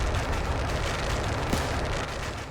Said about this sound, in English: this explosion, boom, knocks over the tree